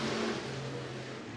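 A dirt-track race car at Bakersfield Speedway accelerating, a brief, distant engine roar with a faint pitch rise under crowd noise.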